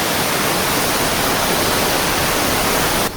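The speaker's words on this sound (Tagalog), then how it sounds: "Pakinggan nyo ang bagsak ng tubig." Namengpengan Falls in Sigay, Ilocos Sur, water pouring down in a dense, continuous broadband roar, steady and close, with nothing else standing out.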